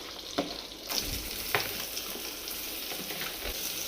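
Mustard seeds fry in hot oil for a tomato chutney, a soft continuous sizzle with occasional stirring clicks and light pops, close and fairly quiet.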